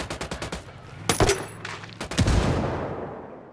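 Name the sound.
gunfire in video game Ghost Recon Wildlands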